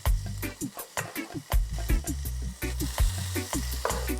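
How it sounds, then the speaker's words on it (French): Smoked chicken is stirred in a little oil in a saucepan, with close scraping and tapping strokes in an uneven rhythm over a steady sizzle. "Maintenant, dans un peu d'huile, on va faire revenir le poulet fumé"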